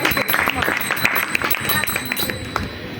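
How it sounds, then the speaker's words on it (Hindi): Audience applause at a religious katha gathering in Umerkot, Sindh: a sustained, dense burst of clapping from a crowd, fairly close and loud, with voices mixed in. "कृपया उनके लिए तालियां दो।"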